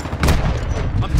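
Gunfire in Call of Duty Modern Warfare 2 multiplayer, loud close bursts of shots and booming impacts packed densely together in a short, chaotic stretch of combat, with a voice calling out amid the fire.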